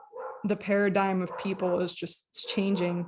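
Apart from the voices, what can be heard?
dog barking at the UPS delivery man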